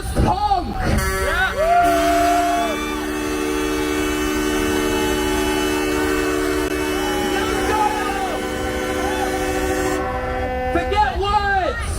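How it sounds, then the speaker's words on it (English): Loud, sustained horn blasts from large trucks blare together for several seconds at a trucker convoy rally in Ottawa, with shorter honks and crowd noise at the start and end. "You need horns."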